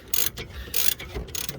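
A ratchet loosening a 16mm bolt on the front stabiliser link of a 2017 BMW 1 Series 2.0 petrol, with three short bursts of close, crisp mechanical clicking.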